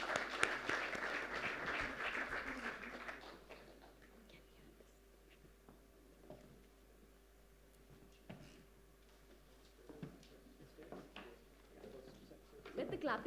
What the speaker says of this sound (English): May I have a big round request of applause Mr.